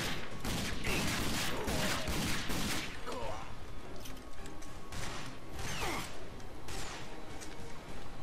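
Gunfire in the video game Rage, bursts of rapid shots and mechanical clatter in dense, overlapping volleys, moderately loud and continuous, mixed with other game sounds.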